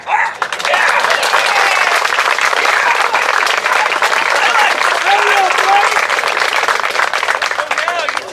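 An audience at an umpire training school claps steadily and continuously, a dense sustained round of applause that carries loud and close for the whole stretch, with faint voices mixed in.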